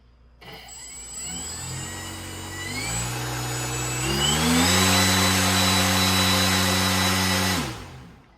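Small electric motor on a radio-controlled boat spinning its balanced propeller at about half throttle, a steady whirring whine that climbs in steps as power rises, then holds close and loud before cutting off abruptly.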